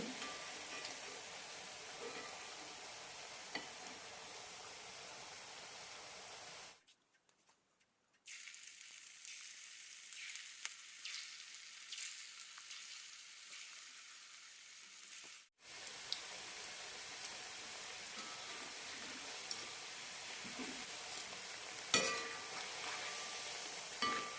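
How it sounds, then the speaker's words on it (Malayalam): Crispy evening snacks deep fry in oil over a low flame, giving a steady hiss of fine sizzling with faint crackles. The sizzling cuts out briefly twice, then resumes, close by and with no voices. "ലോ ഫ്ലെയിമിലിട്ട് വറുത്തെടുത്താൽ മതി അപ്പോഴാണ് നല്ല ക്രിസ്പി ആയിട്ട് കിട്ടുള്ളൂ"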